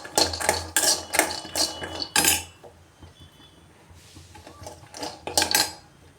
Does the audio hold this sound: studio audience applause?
no